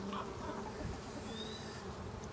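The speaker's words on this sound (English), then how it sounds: "This frame is really packed with bees" Honey bees hum in a dense, steady drone over a packed hive frame of a swarm colony, close and continuous with no talk.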